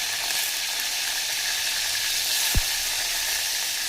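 Garlic sizzling steadily in hot oil with cumin and mustard seeds, a close, even crackling hiss throughout, with one brief low knock partway through.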